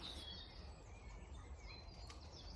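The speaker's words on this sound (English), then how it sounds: "Those birds are amazing right now." Birdsong in spring fills the air outdoors in a garden on a cold, grey day, with faint high chirps and tweets running steadily over a low background rumble.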